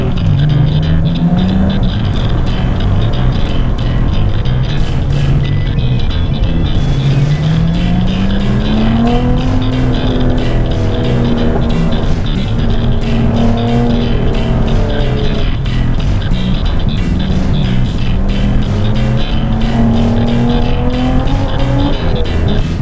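Lotus Exige S sports car driving along the bumpy Beachy Head Road, its engine note droning steadily and rising and falling with the revs over a constant rumble of road and tyre noise, close and loud throughout.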